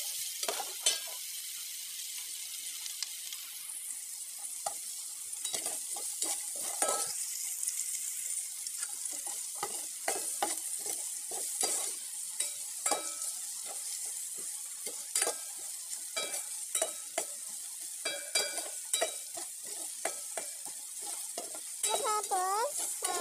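Garlic, onion and ginger sauté in a pan with an even sizzle, broken by frequent scraping strokes of a spatula in an uneven rhythm, fairly close and without any voices.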